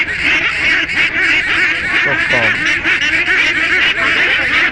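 Farm-raised meat ducks brought for sale at a local market quack loudly and continuously at close range in a dense, overlapping chorus.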